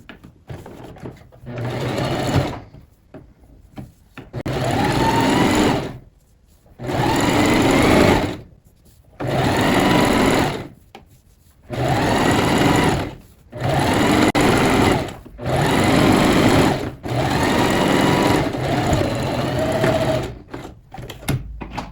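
A sewing machine stitching a sweatpants seam, running in about eight loud close bursts of rapid whirring separated by short pauses as it goes forward and back.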